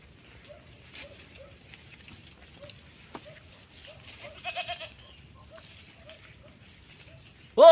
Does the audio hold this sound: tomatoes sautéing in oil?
no